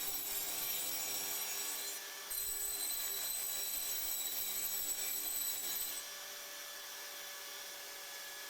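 A power tool cuts a groove into wood, giving a steady high whine with rasping friction for about six seconds before it drops to a quieter hum. No one speaks.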